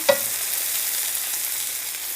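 Crispy chicken cutlets for chicken Parmesan fry in oil; a single sharp clink of a utensil opens a steady, close sizzle that continues evenly with no talking.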